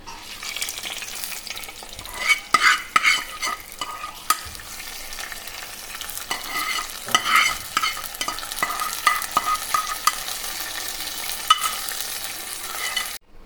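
A tempering of mustard seeds and dried chillies in hot oil is poured into an ash gourd pulissery curry, giving a sustained sizzle with sputtering pops and stirring clatter, close and unaccompanied by voices.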